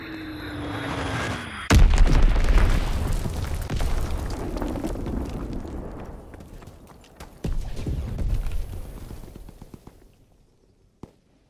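A loud bomb blast in a video game hits suddenly, followed by a long rumbling roar and scattered crackles, then a second blast and a fading tail with one last small pop.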